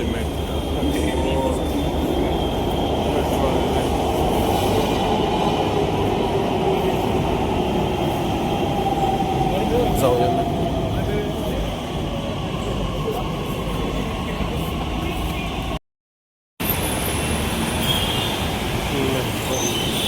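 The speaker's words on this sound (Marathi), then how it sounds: "आलेलं आहे आपली मेट्रो." A Pune metro train arrives and runs past, a steady broadband rumble with wheel and rail noise holding throughout, close and fairly loud, with a person talking over it and a brief dropout near the end.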